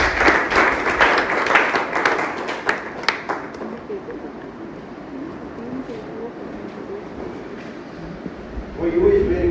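Applause from a club meeting audience welcoming a speaker to the stage, dense clapping for the first few seconds that thins into scattered claps and room murmur, with a voice returning at the end.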